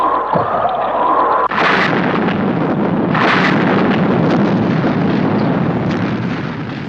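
Missiles fire in a 1960s Thunderbirds puppet-series scene to clear a nose cone, two loud whooshing bursts over a continuous roaring rumble of blasts, with no voices.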